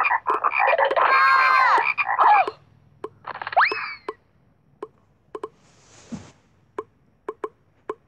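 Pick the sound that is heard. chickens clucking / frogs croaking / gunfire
frogs croaking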